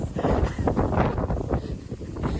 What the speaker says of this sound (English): The wind almost knocked me over right there.